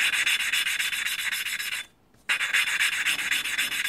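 A continuous, gritty rubbing grind comes from an engine valve being lapped against its seat with grinding paste, turned back and forth in a steady rhythm, loud and close, with a brief pause before the scraping resumes.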